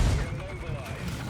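Artillery fire in the World of Tanks video game lands as a heavy, booming low rumble, loud and close, rolling on for a moment under a voice.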